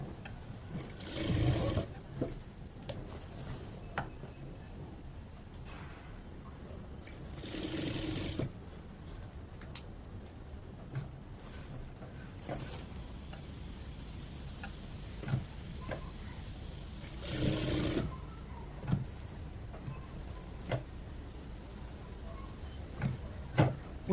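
A sewing machine stitches a decorative border design onto a saree in short bursts, with quieter rubbing and handling of the fabric between runs.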